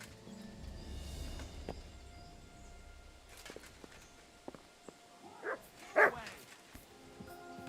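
A dog barks in the medieval video game Kingdom Come: Deliverance II, with a few sharp barks and yips rising out of a quiet ambient backdrop, plus soft footsteps and faint speech.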